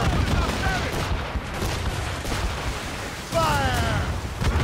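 Warship cannon fire in Assassin's Creed Rogue, a naval battle in a video game, with dense booming volleys, whistling shots and constant loud rumble layered under battle shouts and game voices.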